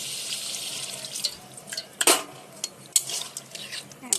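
A utensil stirs dahi paneer masala with potatoes and a little water in a pan, giving soft scraping and clinking knocks against a hissing, sizzling background.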